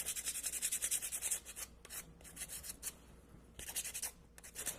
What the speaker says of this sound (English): You can sand all the way down to the pot, whatever you'd like.